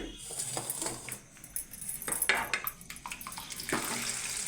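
Fried rice-flour palakayalu balls tumble and rattle in a pan of hot oil, giving a faint, continuous clatter of small knocks and a soft sizzle.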